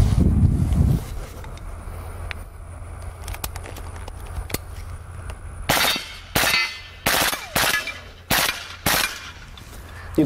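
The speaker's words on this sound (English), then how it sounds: "Most of the noise you're hearing is the action of the gun and the target's being hit." Mechanical clacks of an integrally suppressed AAC Honey Badger short-barreled rifle's action and metal targets being hit ring out as a rapid series of sharp, close cracks in the second half, after scattered faint ticks and a low rumble.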